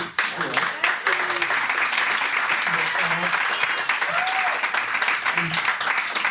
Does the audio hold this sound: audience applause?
yes